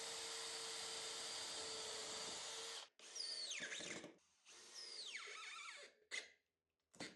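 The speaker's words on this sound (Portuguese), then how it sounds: "eu vou fazendo os próximos furos" A power drill boring screw holes into the side of a mold box: a long steady whine for about three seconds, then several shorter bursts where the pitch sags and rises as the bit bites, with brief pauses between.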